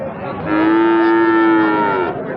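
A Sahiwal bull calf gives a single drawn-out moo lasting over a second, close and clear, with no one talking.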